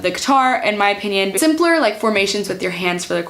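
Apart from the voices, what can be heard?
No distinct noise like a dog, phone or traffic.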